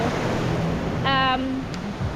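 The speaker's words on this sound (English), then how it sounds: "It's just that the waves are a little bit stronger today" Strong surf breaking at a huge Sardinian beach under a red-flag warning, a steady broadband wash of waves and wind, close and loud, with a brief voice in the middle.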